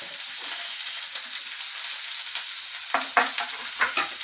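Onions sizzle steadily in a hot pan of oil with chillies on medium flame, a constant close hiss. Near the end, a few louder scraping, clinking stirs cut through the frying.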